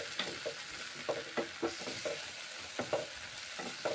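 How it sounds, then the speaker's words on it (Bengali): Maggi noodles cook in a pan with sauce, a soft sizzle running underneath while a spoon scrapes and stirs in quick, irregular strokes, close by and quiet, with no voices. "তাড়াতাড়ি করে তাই ম্যাগি রান্না করে নিচ্ছি"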